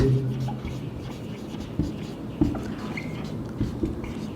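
Chalk or marker scratches out an English sentence on a classroom board, soft scraping strokes with a few sharper taps, heard close alongside faint room noise.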